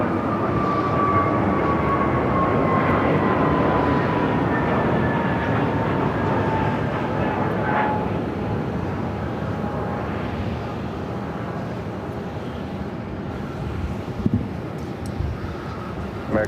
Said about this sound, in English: That flight taking off is American Airlines flight 2454 heading to Santa Ana, California, an A321neo